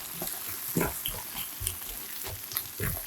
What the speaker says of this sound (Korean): 토마토 스파게티 소스 수북하게 3스푼 넣고 소스와 재료가 하나가 되도록 골고루 섞어 볶아주고